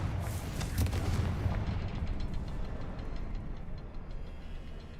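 A blasting spell in a wizarding video game erupts in a loud, booming burst at the start, followed by rumbling debris and echoing cavern ambience that stays dense and loud before easing slightly.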